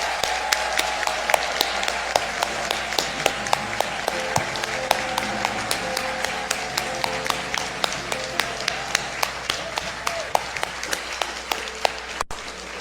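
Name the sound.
applause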